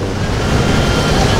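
Sea waves washing onto the shore at sunset near Tangier, a continuous loud rushing wash mixed with wind buffeting on the microphone, no distinct breaks.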